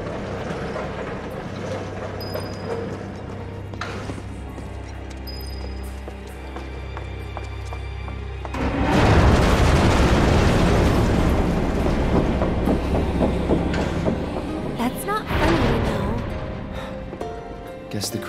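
In Final Fantasy 7 Remake, the Sector 7 train fills the scene with a loud rolling rumble that swells partway through, heard beneath a station announcement voice and game sounds.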